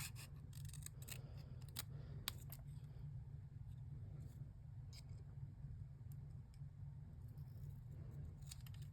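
Scissors snip and cut through material at close range, a run of quick crisp clicks bunched at the start and scattered later over a low steady hum, with no voices.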